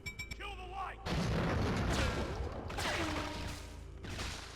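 A few quick clicks, then a heavy booming grenade explosion in a 007 video game that rumbles and rolls on, with a second blast-like surge afterward.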